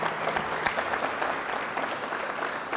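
A crowd claps steadily throughout, a dense, even patter of applause at moderate volume.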